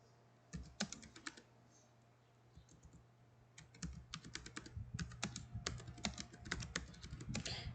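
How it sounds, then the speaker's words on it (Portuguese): Bursts of computer keyboard typing, rapid irregular key clicks in quick runs with a short pause partway, close and fairly faint in a quiet room. "vou digitar aqui a diferença desse cordel no Brasil e na Europa"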